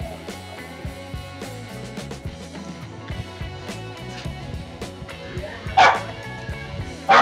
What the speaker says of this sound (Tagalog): Umingay yung aso kasi ha?